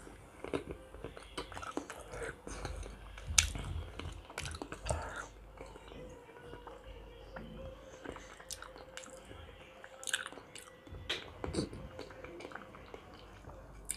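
Someone eats pork knuckle with cucumber, giving close, quiet chewing and occasional crisp crunches and bites in an uneven rhythm, with no talk.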